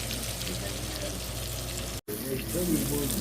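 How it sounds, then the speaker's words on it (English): Onions frying in rendered bacon fat in a pan, a steady broad sizzle throughout with a brief dropout midway, then stirring clatter and a voice over the hiss. "Amaya is going to go ahead and add those onions to that bacon"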